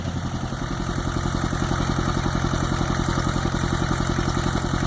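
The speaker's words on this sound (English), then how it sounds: "We have Jeff learning on the tractor now." A tractor engine runs steadily during a sweet potato harvest on a farm, a loud, close, rhythmic diesel chugging with continuous clatter and no pauses.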